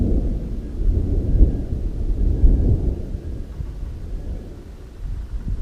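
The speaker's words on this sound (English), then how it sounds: "There's lots of thunder rolling over this hill." Thunder rolls over a hill outdoors in a low, rumbling wash that swells and fades across the stretch, with a faint patter of light rain and no talk.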